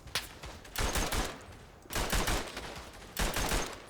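Machine gun fire in the World War One shooter Verdun, three loud sustained bursts of rapid shots separated by brief pauses.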